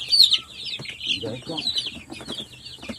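Chickens cluck close by in a rural yard with several roosters gathered, soft repeated clucks and higher calls overlapping, with faint background voices and movement.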